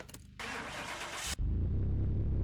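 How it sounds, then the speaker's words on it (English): A Lotus K-Series engine cranks and catches in Car Mechanic Simulator 2021, a short starter whir followed by the engine firing up and settling into a steady, close idle. "let's get it started and hear that Lotus K-Series engine purr."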